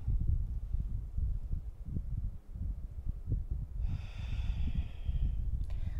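Rhythmic nasal breathing during a full-body mobility stretching exercise, close and low, with repeated snort-like inhales and exhales in a steady pattern; a brief higher hiss enters near the end.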